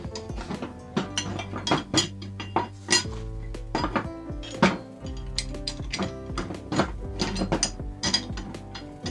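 Metal blades of a DTZ 560 DN rotary tiller clink and clatter as they are handled and fitted during assembly, with repeated sharp metallic knocks and rattles close by, no voices.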